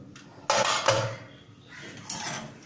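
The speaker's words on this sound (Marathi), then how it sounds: "झाकण काढून घेते" A pressure cooker lid and the metal container inside it are lifted off after cooking taro-leaf curry, giving a few sharp metallic clanks and scrapes up close, then a quieter clink near the end, with no talking.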